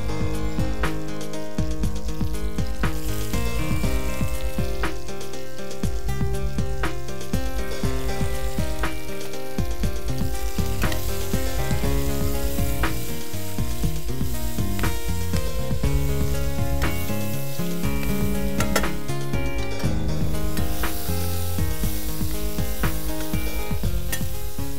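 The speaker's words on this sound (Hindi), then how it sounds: "इसे हमें 2 से 3 मिनट तक पकाना है, जब तक कि ये हल्के सॉटे भी हो जाएं और कैरमलाइज भी" Garlic and sliced onions sauté in a hot pan, a steady loud sizzle running throughout with occasional stirring, layered under continuous background music and no talk.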